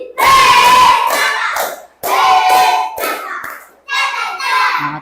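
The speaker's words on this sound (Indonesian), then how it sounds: "Tepuk apresiasi." A classroom of children performs a rhythmic appreciation clap in three loud bursts separated by short pauses, with young voices chanting along.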